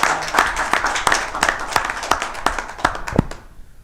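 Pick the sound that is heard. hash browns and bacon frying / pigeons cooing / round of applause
round of applause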